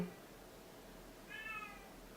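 A cat gives a single short meow, fairly clear against a faint, steady room hum.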